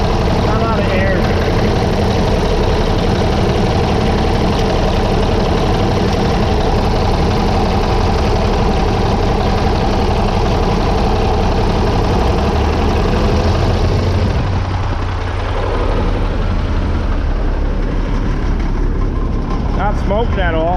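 A Cummins L10 diesel engine runs just after an injector pump install, idling loud and close with a steady, rough, knocking clatter. The note eases slightly partway through.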